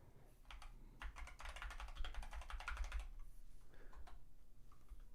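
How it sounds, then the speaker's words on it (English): Rapid, clattery keystrokes on a loud keyboard fill the middle seconds, trailing off into a few scattered taps against low background hum. "I got a new keyboard too. Is it nice and loud?"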